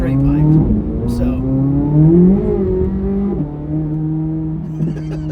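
2024 C8 Corvette Z06 with headers, cat deletes and a cat-back straight-piped exhaust revving, a loud, rough engine note that climbs and holds, then drops and settles into an idle.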